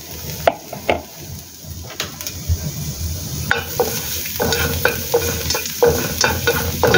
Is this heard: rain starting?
no